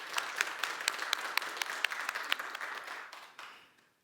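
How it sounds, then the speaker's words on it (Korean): A church congregation at a Sunday service gives a brief round of applause in thanks, a dense patter of clapping that fades out toward the end. "우리 하나님께 감사의 박수 올려드리시겠습니다"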